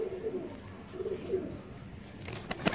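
Soft, low cooing from a high-flying breeder pigeon repeats a few times, fairly close but quiet, followed by faint rustling at the end.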